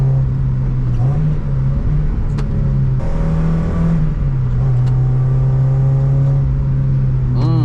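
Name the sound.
Mazda MX5 NA engine driving Nürburgring Nordschleife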